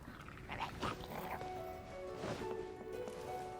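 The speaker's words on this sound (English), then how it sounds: "They kind of sound like angry dogs, but not like the actual threatening big kind, the small kind." Small, angry dog-like creatures in Genshin Impact yap and whimper in a few quick, fairly faint bursts over a steady game background.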